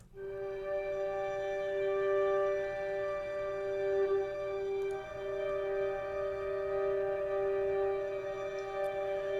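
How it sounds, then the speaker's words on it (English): A solo violin bowed flautando, airy and soft, blends with high harmonics on an upright bass in a score demo for "And They All Fall Down"; sustained steady tones hold for about nine seconds with no voices. "I just love that sound of the bass up in that high range"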